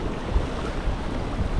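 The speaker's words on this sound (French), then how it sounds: "Moi qui pensais être à l'abri du vent, c'est râpé." Wind gusts at sea roar steadily against the microphone during lure fishing, a loud, rumbling wash of noise with water sounds and no voices.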